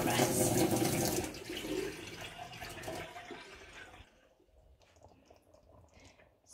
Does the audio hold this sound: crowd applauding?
no